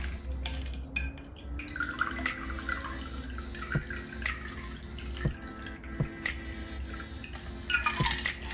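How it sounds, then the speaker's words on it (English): Soda drips into a kitchen sink while a raspberry martini is made: small, irregular plinks and taps over a steady background hiss, fairly close and without any talk. "It's already dripping out because it's soda."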